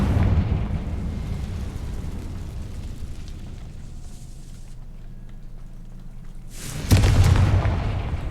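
Confringo explosion spell blasting in a Harry Potter video game, a deep booming burst followed by a rumbling decay, then a second sharp blast near the end.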